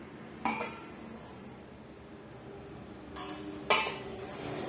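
A metal lid lifted off a pot of freshly cooked rava tiffin, giving two sharp clinks about three seconds apart over a quiet kitchen background.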